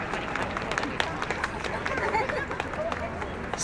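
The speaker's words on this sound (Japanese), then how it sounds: "大きな拍手を送りください。" An audience applauds at a projection mapping awards screening in a large hall, with dense, steady clapping and a crowd murmur throughout.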